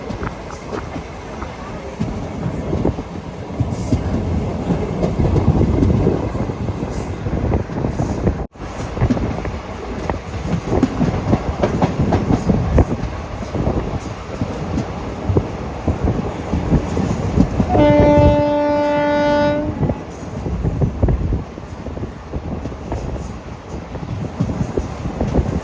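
A Jan Shatabdi Express rumbles steadily through forest between Haridwar and Dehradun, with loud continuous wheel and carriage noise, wind buffeting and a brief squealing tone near the end.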